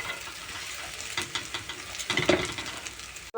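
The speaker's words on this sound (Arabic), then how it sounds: "بقى الرز خد كام تقليبه مع الشعريه" Rice and vermicelli stirred as they fry in a pot, with soft sizzling and a series of scraping, clattering spoon strokes, quiet and close, with no talking.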